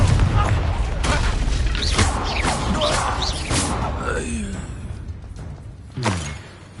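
Fiery Confringo spell blasts in Hogwarts Legacy land as loud booms amid combat clatter, with a voice shouting in the middle and a final sharp impact near the end.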